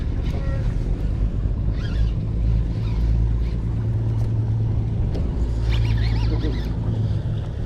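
A fishing boat's motor drones steadily out on San Diego Bay, loud and close with wind and water noise over it, while faint voices come through now and then.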